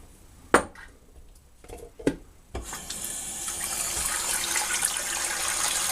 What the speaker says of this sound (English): Let me get some water in my sink here.